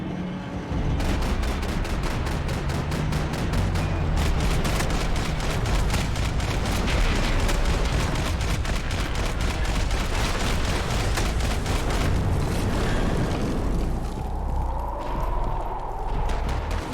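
Sustained, dense gunfire in Max Payne 3, with rapid repeated shots and explosive bursts forming a loud, continuous barrage for most of the stretch before easing slightly near the end.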